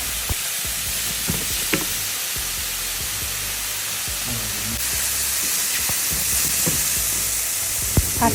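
Mushrooms frying in a dry pan with no oil, a continuous close sizzle and hiss with occasional scraping stir clicks, building slightly louder toward the end.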